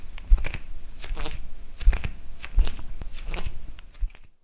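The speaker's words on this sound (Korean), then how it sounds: "거실에서 사람 걸어다니는 발자국 소리가 들리는 거예요" Footsteps pace across an apartment living room at night in a horror-radio sound effect: soft, scattered thuds in a loose walking rhythm, faint and somewhat distant over a low hiss.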